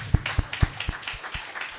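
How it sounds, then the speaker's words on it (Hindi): A church meeting audience in Goa claps briefly, giving a quick, fairly even run of sharp claps that fade out within two seconds. "तालियां।"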